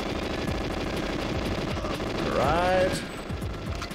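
Rapid automatic gunfire in the N64 video game GoldenEye 007 aimed at ceiling turrets, a steady rattling stream of evenly spaced shots that runs throughout, with a brief metallic whine midway and a short spoken word.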